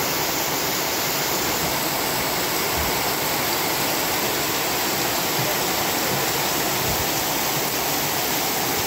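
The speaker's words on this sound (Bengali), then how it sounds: "বৃষ্টির শব্দ শুনেই কিন্তু এর তীব্রতা আসলে বুঝতে পারছেন যে কতটা তীব্রতার সাথে বৃষ্টি হচ্ছে" Heavy rain pours down as floodwater rushes across a village road in Bogra, making a loud, unbroken roar of hiss and rushing water with no pauses and no voices.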